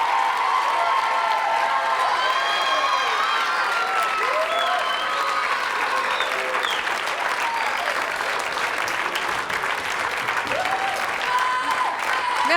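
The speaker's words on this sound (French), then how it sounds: "Je vous demande de les applaudir très chaleureusement." TV studio audience applauding and cheering warmly on a French television show set, a dense, steady wash of clapping with shouts and whistles throughout, loud and sustained.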